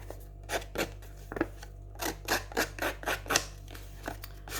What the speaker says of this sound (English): When you go around with these scissors.